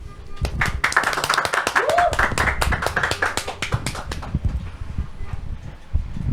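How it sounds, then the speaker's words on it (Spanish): A small studio audience claps to welcome Astrid Cabrera onto a Catholic talk show set. The claps are scattered and fairly close, with some background murmur, and thin out over the last couple of seconds. "la recibimos en el estudio de Catolin con un fuerte aplauso"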